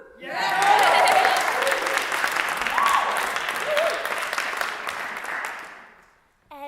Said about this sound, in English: I'll go with the clap.